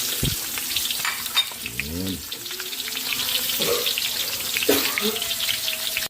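Onions sautéing in a hot pan for pancit bihon canton gisado, a loud continuous sizzle close up with occasional scraping stirs and clinks, heard alone without talk.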